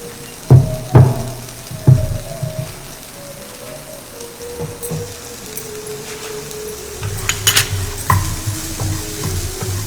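Spoons scrape and stir through black-eyed peas as grated coconut and curry leaf seasoning go in, giving a few sharp clanks and soft sizzling, with a brief burst of louder scraping near the end.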